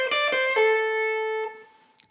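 An electric guitar plays a quick pull-off lick on the high strings, with rapid picked notes settling into one long sustained tone that rings clearly and then fades, played alone at close range.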